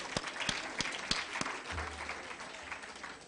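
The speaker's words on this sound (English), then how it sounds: "Let's give a round of applause to Irene." Applause in a hall honouring Irene at a World Breastfeeding Week 2023 event, starting with a few sharp separate claps that thin into a soft, steady patter.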